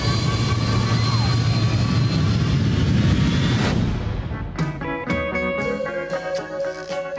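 A jet airliner roars in flight for a film trailer, a loud low rumble with a high whine for several seconds, then dropping away to scattered hits and tones under sparse talk.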